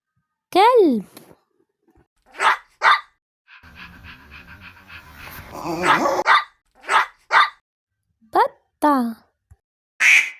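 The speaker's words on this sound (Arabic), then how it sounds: "كلب" A dog barks in a string of sharp, separate yelps at close range, broken midway by a few seconds of rough panting and huffing, then more spaced barks.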